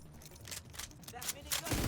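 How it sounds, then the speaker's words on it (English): Rapid gunfire from a minigun in the video game The Division 2, a dense continuous burst running through the whole moment at moderate loudness, with scattered game effects layered over it. "That minigun."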